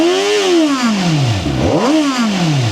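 A CFMOTO 500SR Voom four-cylinder motorcycle engine runs close and loud, its pitch sliding down, dipping briefly and climbing again in smooth rev swells.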